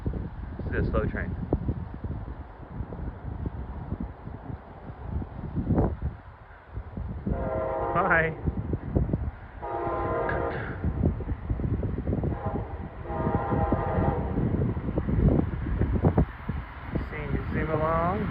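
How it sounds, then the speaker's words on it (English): A slow train rolls past a crossing amid heavy rumble and wind noise, with several horn blasts sounding in the middle and later stretches; a voice speaks briefly. "It's a slow train."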